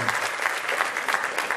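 Audience at a Sierra Leone Muslims talent show claps in a steady burst of dense, lively applause, evenly loud throughout the short stretch with no voices standing out.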